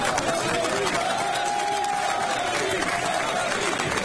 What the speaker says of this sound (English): The crowd cheered the white Dearborn mom who brought the issue to the fore